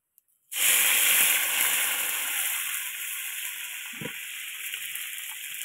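Garlic frying in hot oil in a home kitchen for a fish and drumstick curry, a sudden loud sizzle that bursts in after a brief silence, then slowly settles into a steady softer hiss with a faint clink.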